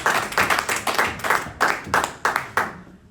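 Audience applause at a Brooklyn community event, heard as a short burst of clapping with a loose, pulsing rhythm that thins out and fades toward the end.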